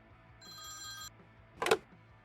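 A telephone rings in the video game Priest Simulator, a single clean electronic ring burst standing alone in a quiet scene, followed by a short brighter clatter as it is picked up.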